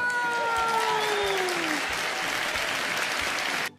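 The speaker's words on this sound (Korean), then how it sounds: "박수! 와!" Schoolchildren applauding and cheering at an elementary school smoking-prevention class, a dense, loud burst of clapping with whoops that runs steadily for several seconds and then cuts off abruptly.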